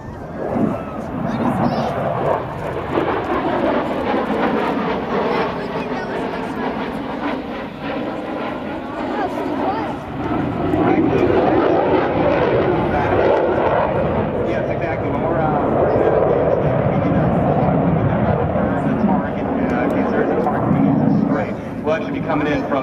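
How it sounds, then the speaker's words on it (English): A jet with two General Electric F414 engines flying an inverted whisper pass at an air show, throttled back, giving a broad, steady roar that swells and fades as it passes, with someone talking over it. "now listen to how quiet these two General Electric F414 engines can be"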